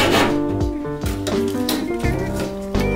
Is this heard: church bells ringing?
no